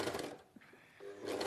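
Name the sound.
sewing machine stitching a thick seam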